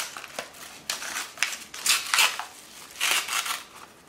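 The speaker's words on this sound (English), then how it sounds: "Use the scissors." Gift packaging for a Christmas present crinkles and crunches under scissors in short irregular bursts, close and fairly quiet with brief pauses between cuts.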